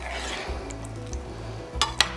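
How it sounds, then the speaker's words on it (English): A spoon stirs baked yams in a pan, soft scraping and sizzling with a couple of brief clinks of utensil on cookware near the end. "So I'm gonna give it a stir, quick mix too, gently"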